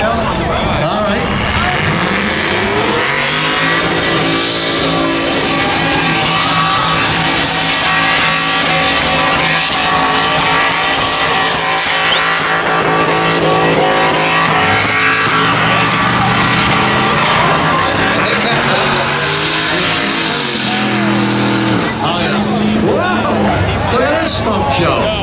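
Diesel pickup trucks launch in a spectator drag race at Beech Ridge, engines roaring loud and continuous with tire squeal and revving through the run, while an announcer and crowd chatter sit underneath.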